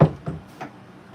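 A gun's charging handle slamming into place gives three sharp knocking clunks, a loud first hit followed by two lighter ones roughly a third of a second apart, close by with nothing else around.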